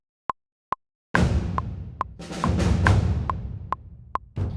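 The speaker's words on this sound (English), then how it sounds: "let's listen to only the big drums while we record the snares here" Cinematic big drums play back over a steady metronome click. A few lone clicks come first, then deep, booming drum hits roll in with long resonant tails while the clicks keep ticking on top.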